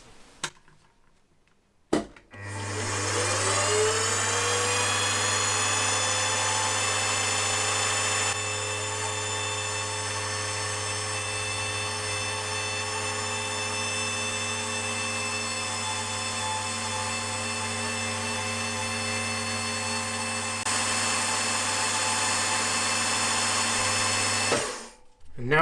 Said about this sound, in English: Now it's a matter of drilling again to a depth of